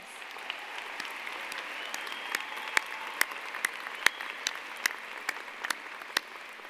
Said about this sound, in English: Please give yourselves one more round of applause